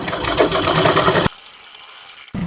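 A sewing machine stitching blouse fabric whirs loudly and steadily at close range for just over a second, then stops abruptly into near silence before briefly starting again.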